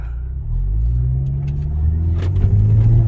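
A Mercedes-Benz W207 fitted with an electric throttle controller and sport exhaust revs close by, its deep, steady engine rumble swelling and climbing toward the end of the short burst.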